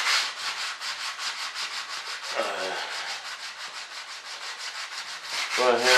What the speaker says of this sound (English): I'm just gonna sand these seams and fill them